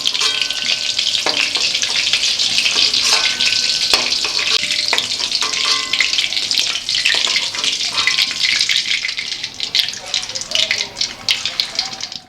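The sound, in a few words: frying kofta balls in oil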